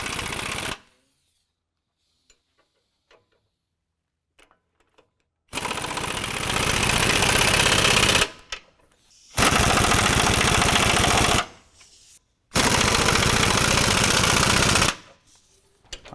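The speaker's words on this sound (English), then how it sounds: "now we'll tighten the bolts that hold the drop bracket cross members to the original mount locations" Bolts fastening drop-bracket cross members on a 2016 Chevy Silverado 1500 during a Havoc Offroad 6.5-inch lift install are driven with a loud power tool: three harsh, rattling bursts of several seconds each, separated by near-silent gaps.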